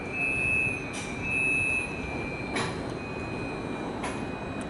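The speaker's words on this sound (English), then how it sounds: "Some MAV coaches arrive." MAV railway coaches rolling into Budapest Keleti station, a steady low rumble of wheels with a faint squealing tone and a few short metallic clanks, moderately distant and continuous.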